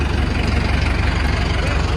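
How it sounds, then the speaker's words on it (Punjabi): A tractor engine idles steadily and loud nearby, its low rumble continuous throughout at a village langar gathering near Chamkaur Sahib in Punjab. "ਆ ਵੀ ਚੱਲਿਆ ਟਰੈਕਟਰ"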